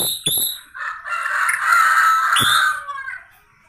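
A magpie robin (murai) suffering from a hoarse voice gives a long, raspy, strained call, heard close with a couple of sharp clicks around it.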